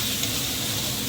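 Ground tomato sizzles in a pan with browning onions, a steady close hiss of frying with soft stirring and no talking.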